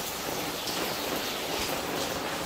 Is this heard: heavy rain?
yes